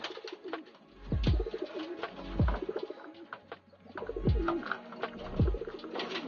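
Pigeons in a loft give deep, close cooing calls, several rolling coos repeating in a loose rhythm over soft background rustle.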